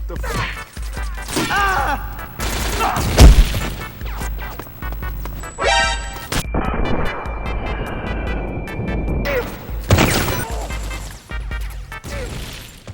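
Gunfire fills Metal Gear Online on PS2 with loud, sharp cracks and crashing impacts scattered in bursts over a busy battlefield mix, including a heavy thump and sustained electronic tones.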